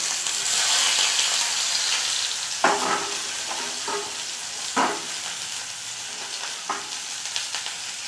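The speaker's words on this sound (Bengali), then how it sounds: "দিয়ে দেব অল্প একটু গোটা জিরে, দিয়ে দেব কেটে রাখা পেঁয়াজ," Chopped onion and a little whole cumin fry in a pan, a steady close sizzle broken by several scraping stirs of a spatula.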